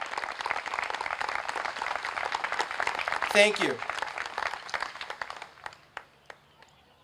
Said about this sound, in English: Let's give a round of applause to all of our veteran